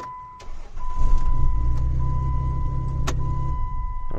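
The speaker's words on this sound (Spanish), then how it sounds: "es el motor de arranque." Starter motor on a Jeep Wrangler 3.8 cranks steadily for about three seconds with a low mechanical churn and a faint whine on top, ending in a sharp click as it stops.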